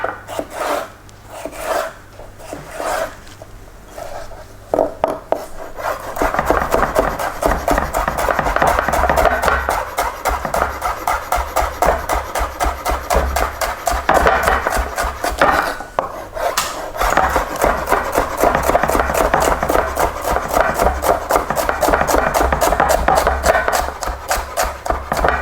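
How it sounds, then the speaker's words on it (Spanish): A kitchen knife cuts through celery stalks on a board during a fermentation workshop, with a quick, steady run of close chopping strokes that keeps going for about twenty seconds after a few scattered opening cuts. "Seguimos cortando todo el apio."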